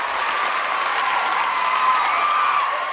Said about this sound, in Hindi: जोरदार तालियों से उनका स्वागत करिए